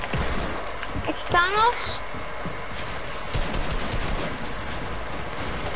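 Video game gunfire with a brief burst of shots in a chaotic online duos match, set under a voice talking and a busy background of game noise.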